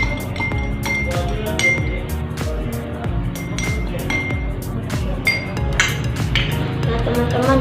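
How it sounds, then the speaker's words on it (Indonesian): A spoon stirs kumaru herbal cough remedy in a glass, ringing out in quick, repeated clinks of metal against glass, close and fairly loud. "Kemudian kita aduk."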